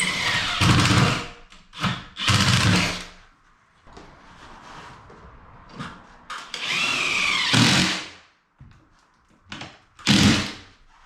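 A power drill drives long screws into a ceiling during a 1921 house renovation, with several loud, separate whirring bursts of a few seconds each. Quieter pauses fall between the bursts, filled with faint handling noise.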